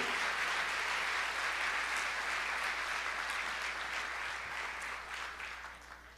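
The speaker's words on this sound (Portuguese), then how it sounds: "Você pode aplaudir o Senhor enquanto eu refresco?" A church congregation claps steadily during a worship service, a dense sustained wash of applause that holds level for several seconds before starting to thin out at the end.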